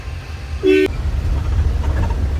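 Bangalore city traffic: one short, sharp vehicle horn honk near the start over a continuous low rumble of engines, with a fainter horn-like toot later in the busy road noise.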